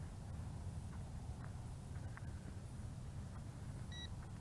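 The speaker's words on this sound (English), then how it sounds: "the remote control sent out a beep" A drone remote control, a Visuo Zen K1 foldable GPS drone's controller, gives one short, clear electronic beep near the end during compass calibration. Steady low background hum sits under it and no one speaks.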